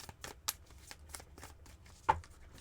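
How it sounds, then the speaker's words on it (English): A tarot card deck is shuffled by hand, giving a run of quick riffling bursts and soft slaps with one sharper snap near the end, close and dry with no talking. "I've been shuffling and shuffling."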